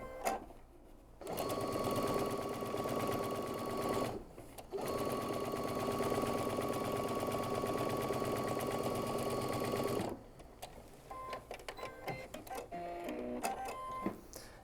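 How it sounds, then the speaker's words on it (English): A sewing machine runs steadily while stitching a quarter-inch quilt seam for a lattice quilt, two long sustained bursts of close, loud mechanical whirring separated by a short pause, then quieter clicks and handling. "I'm going to stitch a 1/4 inch seam across this."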